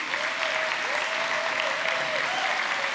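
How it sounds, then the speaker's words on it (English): Steady applause from a conference keynote audience honoring the organizers and volunteers, even and continuous, with a faint whistle-like tone gliding through the background. "let's give a round of applause for what they've been organizing"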